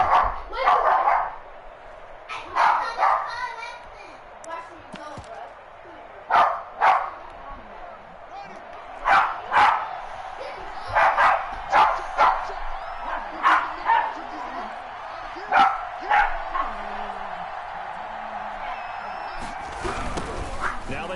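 A dog barks in repeated short bursts, fairly close, against the crowd and announcer noise of an American football game broadcast.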